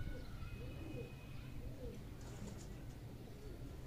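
Soft, low coos from high-flying pigeons, a young cross of two breeds, repeat a few times nearby over a murmuring background, with faint chirps above.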